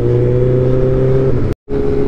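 A motorbike engine drones steadily and loudly on a rough road with sand and road works, holding a tonal, harmonic hum that cuts out briefly before resuming.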